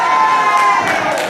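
A wrestling crowd at a 2019 match between Alexander Bernadino and Ryan Matthews cheers in a brief, loud, dense swell of voices that fills the whole moment.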